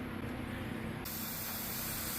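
Air hisses steadily into a dirt bike tire tube as it is inflated, a continuous close hiss that brightens partway through and runs without speech.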